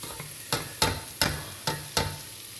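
Garlic goes into a hot pan while a pepper and carrot soup is being made: a run of five sharp, evenly spaced scraping stirs over a faint sizzle, close by with no voices.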